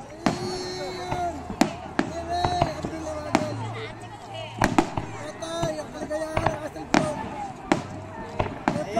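Fireworks bursting at the Ilsan Flower Festival in Korea, a string of sharp cracks and pops spread through the scene, some close and loud, over constant crowd noise and voices talking.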